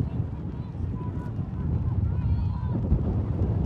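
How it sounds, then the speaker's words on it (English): Strong wind buffets the microphone steadily at an outdoor women's ultimate frisbee club championship game, a loud low rumble throughout with faint voices underneath. "Lots of wind."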